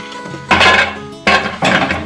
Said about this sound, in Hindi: अब इसमें गर्मा गर्म डाल देते हैं इसको